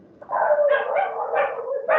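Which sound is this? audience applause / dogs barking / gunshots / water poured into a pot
dogs barking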